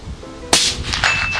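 A rifle bullet strikes a steel gong target outdoors: a sharp crack followed by a bright metallic ring that decays over about a second, heard clearly without talk.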